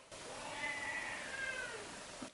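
A cat gives a single drawn-out meow in reply, soft and close, with nothing else heard.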